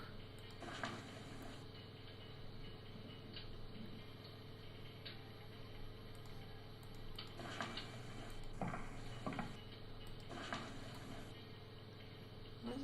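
A clock ticks steadily in the Learning Ladder video game, the soft regular ticks sitting over a constant low electrical hum with a few brief louder bursts.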